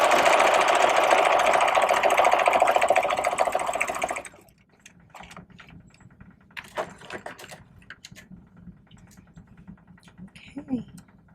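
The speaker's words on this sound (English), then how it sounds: "So that's how we stitch the buttonholes" A sewing machine stitches buttonholes in a loud steady whir for about four seconds, then stops, leaving faint clicks and handling noises.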